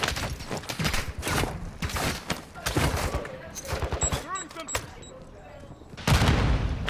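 Rapid bursts of gunfire from a bot in a video game crack in quick clustered volleys, with excited players talking over the shooting.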